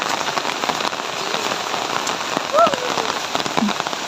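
Steady rain falls on outdoor surfaces under a darkening sky, an even wash of patter throughout, with a faint brief voice heard near the middle.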